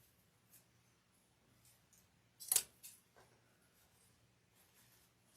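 Scissors snip through grapevine wreath stems, one sharp crisp cut standing out near the middle of an otherwise quiet indoor stretch with faint rustling before and after.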